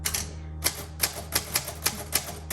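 Keys striking on a 1938 Royal Model O manual typewriter, a steady run of about eight sharp, close clacks at an even, methodical pace, with no voices.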